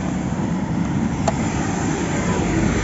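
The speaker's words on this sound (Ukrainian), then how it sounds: "знімаємо, як працює двигун. Машина заведена." Renault Megane 2 car engine idling steadily after a cold start, a continuous close hum and rumble with no talk over it.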